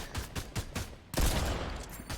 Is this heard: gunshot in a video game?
yes